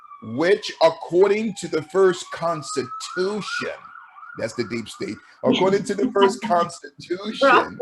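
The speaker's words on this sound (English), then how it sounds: "excuse the sirens" A siren wails outside behind continuous close male speech, its rising and falling tone running steadily and moderately loud under the talking.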